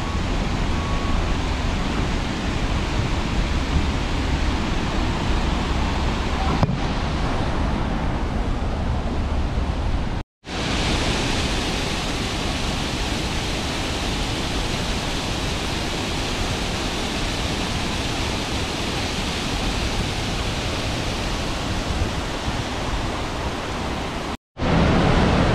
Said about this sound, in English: There's a mini waterfall beside the big waterfall.